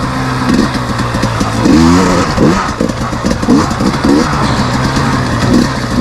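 A 2021 KTM 250 XC W dirt bike engine roars loud and close while riding, revving up and down continuously through gear changes, with no talk.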